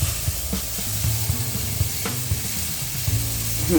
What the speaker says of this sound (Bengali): জল ফুটে এসছে এখন আমি এক এক করে মাছগুলোর মধ্যে দিয়ে দিচ্ছি